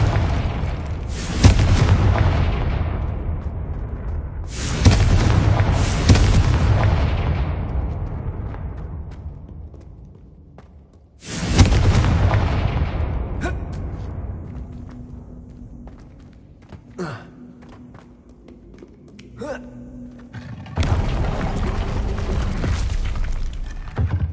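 Bombarda and Confringo spells explode in the Hogwarts Legacy video game, with several loud, booming blasts whose rumbling tails fade, and clinks and small impacts between the blasts.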